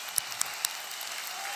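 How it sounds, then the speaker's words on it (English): Audience applause at a .NET developer conference talk, a steady wash of clapping with a few sharp individual claps standing out. "Your time to clap."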